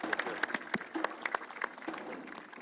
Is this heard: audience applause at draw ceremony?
yes